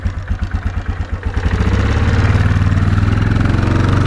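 A 2004 Yamaha Kodiak 450 ATV idles after a cold start following a month of sitting, a close, steady low thumping that speeds up and grows louder partway through as the revs rise.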